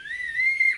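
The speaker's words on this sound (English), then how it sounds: "if you have a whistle around you, and you can use it to make some noise" A whistle is blown once in a single shrill, steady tone lasting just under a second, close and fairly loud, with no other sounds around it.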